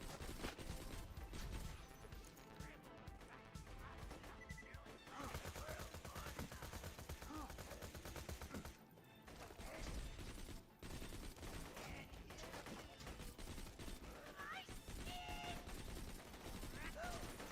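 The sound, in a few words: Sandhawk gun firing in Borderlands 2 video game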